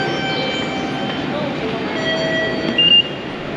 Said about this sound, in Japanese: こちら東武鉄道浅草駅の方から電車に乗車したいと思います。